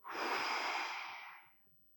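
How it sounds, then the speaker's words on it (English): A single forceful exhalation during a qigong breathing exercise, close and breathy, lasting about a second and a half before trailing into quiet. "Push and breathe out."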